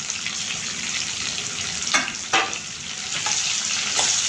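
A big chopped onion fries in a hot pan for chicken roast, a steady close sizzle with a few louder scraping stirs partway through.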